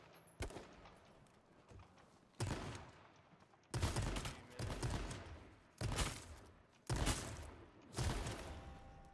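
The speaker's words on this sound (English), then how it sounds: "Three times with the shotgun" Shotgun blasts from the H1Z1 video game ring out in a steady series of about six loud, booming shots spaced roughly a second or more apart, each with a sharp attack and a short decaying tail.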